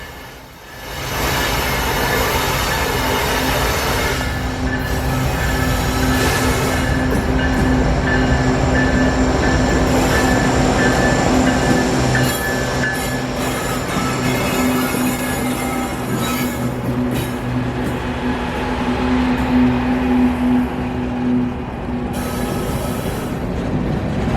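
A northbound manifest freight train rumbles steadily past at close range on a bridge over Highway 20 in Whiteside, Tennessee, wheels grinding and occasionally squealing, loud and continuous with no talking.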